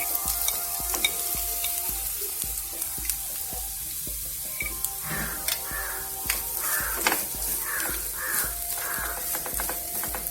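Grated coconut going into a frying pan for a Kerala egg curry, with spatula scrapes and taps in a steady rhythm over a soft, continuous sizzle, up close.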